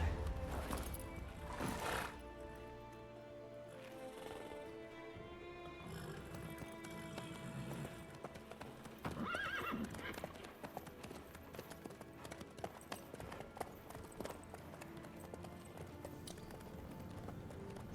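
Horse hooves clip-clop in The Witcher 3, a steady rhythmic trotting heard close and continuous, with a whinny and game music or effects layered in, and characters speaking over it.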